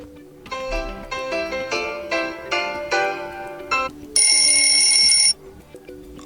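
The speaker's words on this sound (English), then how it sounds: "and select new alarm sound" A Xiaomi Redmi Note 8 phone plays an alarm ringtone: a bright melodic run of chiming notes, then a sustained, shrill electronic tone before it stops.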